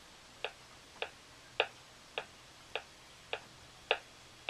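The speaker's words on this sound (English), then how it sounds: "That's 104 beats per minute, and we're going to just listen to it with quarter notes" A Dr. Beat metronome ticks quarter notes at 104 BPM. Eight sharp, evenly spaced clicks stand alone over a faint room hiss, and a few of the clicks are slightly louder.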